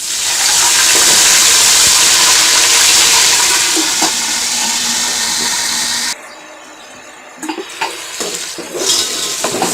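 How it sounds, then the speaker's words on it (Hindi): Water poured onto browned onions in hot ghee, giving a loud rushing hiss for about six seconds that drops to a quieter bubbling sizzle with a few clinks, with no talk. "अब इसमें पानी डालें।"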